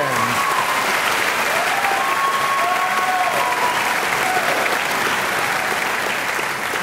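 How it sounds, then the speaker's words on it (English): Sustained applause from a large audience for graduates at a 2011 university diploma ceremony, even and continuous, with a few faint voices rising above the clapping. "Please join me in a round of applause for the graduates of the MPM program."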